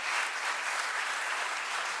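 Audience at a memorial yajna and felicitation event claps together in a dense, steady burst of applause, sustained and fairly close throughout the short stretch.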